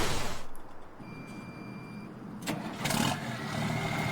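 Tractor engine in Farming Simulator 19, a steady mid-pitched hum with a surge at about 2.5 seconds and louder revving near 3 seconds, then a continuous drone with no talk.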